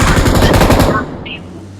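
Rapid automatic gunfire in the battle royale game BGMI rattles loud and close in a fast burst, then cuts off and leaves a quieter tail with a brief electronic blip.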